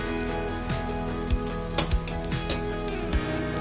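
Appe cooking in oil in a pan, with a steady soft sizzle and a few light metallic clinks and taps of utensils scattered across the clip, with no voices.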